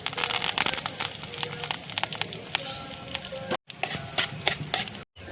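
Cumin, mustard seeds, chana dal, urad dal and curry leaves sizzle and crackle in hot oil for a tempering, a dense steady frying hiss with sharp pops, close and loud, briefly cut out twice.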